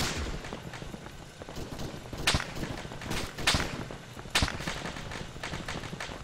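Gunfire in an Arma video game firefight, with several sharp cracking shots at irregular intervals, some louder and nearer, set against a steady background of distant battle noise.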